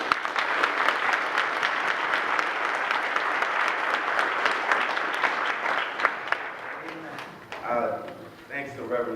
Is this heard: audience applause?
yes